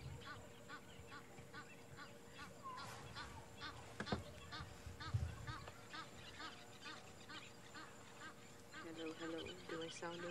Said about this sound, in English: Oh, we've got the Egyptian geese.